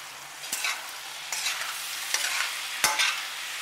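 Mixed vegetable sabzi with spices and fresh coriander is stirred in a pan, giving four distinct scraping strokes over a soft, steady sizzle, with no talking.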